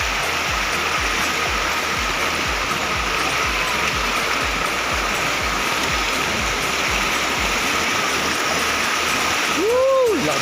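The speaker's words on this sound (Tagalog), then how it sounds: "Lakas ng agos oh" Strong current of the Lawasan River in Norzagaray, Bulacan, roaring as a loud, steady rush of water close by. Near the end there is a brief, faint vocal sound.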